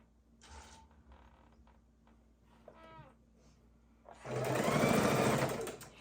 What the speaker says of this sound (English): We're going to sew this side.